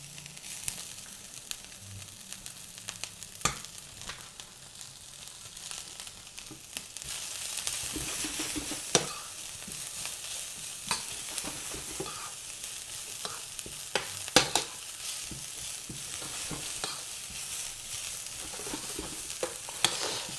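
Cabbage frying in a pan for a vegan dish, with a continuous sizzle that grows louder partway through and scattered scraping clicks from stirring, close and without talk.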